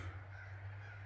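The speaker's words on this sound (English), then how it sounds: "And there's a bird flying over." A crow caws as it flies over a rural yard, a single harsh call heard at moderate distance over a steady low hum.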